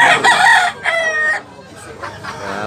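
A gamecock rooster at a fighting-cock breeder's farm in Tabunok, Cebu crows twice in quick succession, loud and close, followed by fainter crowing from other birds in the background.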